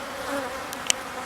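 Honey bees buzzing at their hive in a steady, low, faint drone, with a couple of sharp brief ticks near the end and no voices.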